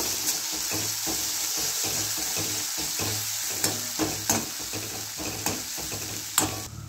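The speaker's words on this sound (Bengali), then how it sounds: "এবার আমি ভালো করে মশলাটা কষে নেব।" Spice paste with chili powder frying for a cauliflower, potato and egg curry, a steady close sizzle broken by rhythmic spatula strokes and scrapes against the pan, no voices present.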